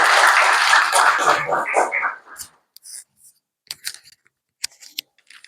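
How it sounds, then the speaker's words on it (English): Audience applause welcoming a participant at a team open mic event, a dense burst of clapping for about two seconds that quickly fades, followed by scattered faint clicks and rustles. "Big round of applause for him."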